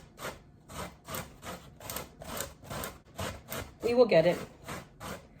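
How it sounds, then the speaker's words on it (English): Zucchini is grated against a kitchen grater in steady rhythmic strokes, about ten evenly spaced rasping scrapes, close and clear, with a short spoken remark midway. "I'm gonna just grate it down to a safe spot for my fingers."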